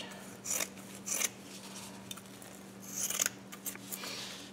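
Scissors cut fiberglass cloth in a few close, crisp snipping bursts, faint overall, set against a low steady background hum.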